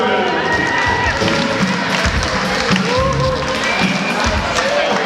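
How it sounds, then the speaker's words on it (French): Wedding guests clap for the bride in a steady, lively round of applause, with a loud voice speaking over the clapping throughout. "On applaudit la mariée."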